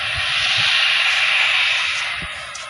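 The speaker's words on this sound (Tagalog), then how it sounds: "So, kitang-kita dito ang paglipad ng eroplano." An airplane taking off in Albay roars past as a loud, broad jet hiss that swells to a peak and then slowly fades, heard from nearby with no talk.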